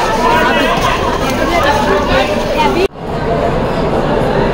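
Passengers crowd a train at Junagadh Junction, a loud, close babble of chatter that cuts off abruptly partway through and then resumes more softly.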